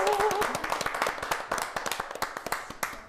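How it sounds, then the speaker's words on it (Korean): Brief round of hand claps from a small group cheering someone on in their diet effort on a Korean health show, starting just as a voice finishes and thinning into scattered separate claps over about three seconds. "그럼 이진희 씨 다이어트 성공을 응원하는 마음으로 박수를 한번 쳐볼까요?"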